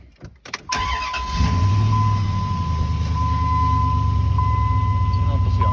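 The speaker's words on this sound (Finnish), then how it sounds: "Laitas konekin käyntiin" A 2002 Dodge Ram Sport pickup engine cranks briefly, catches and settles into a steady, loud close-up idle with a low rumble that continues to the end.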